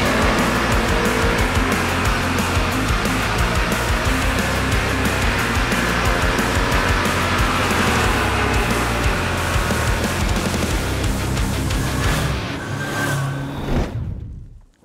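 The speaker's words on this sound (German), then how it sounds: "dann geben wir beide gleichzeitig Gas und schauen mal, wie lange die Automatik braucht" Vespa GTS300 and Lambretta X300 automatic scooters accelerate hard together from a standstill, a loud continuous engine drone with rising pitch sustained for about twelve seconds before cutting off abruptly.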